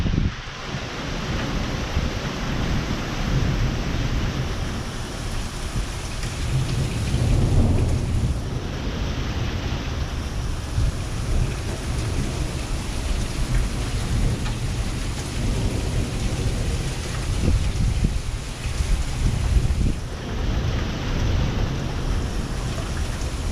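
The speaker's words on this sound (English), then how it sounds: "we're still getting these incredible wind gusts." Severe wind storm gusts roar continuously, a loud broadband rush that swells and eases over many seconds without pause.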